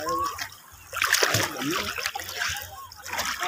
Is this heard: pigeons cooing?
no